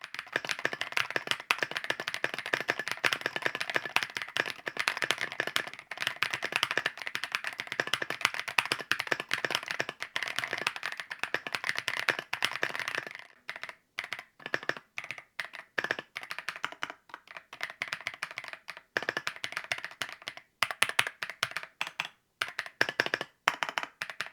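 Steady, rapid clacking of a KiiBoom Phantom 64 mechanical keyboard with hollow point keycaps, fast typing that grows more broken and intermittent in the second half, close and crisp with no talking.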